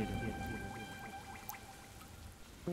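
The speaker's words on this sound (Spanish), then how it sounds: "La lluvia despierta el alma dormida del paisaje." Rain falling steadily as a soft, continuous patter of drops, with a few faint tonal sounds near the end.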